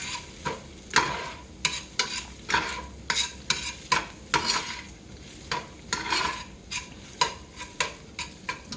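Philly beef with seasonings cooking in a skillet, stirred in quick, steady scraping strokes over a continuous close sizzle, roughly twenty rhythmic clacks of the utensil against the pan with no voices.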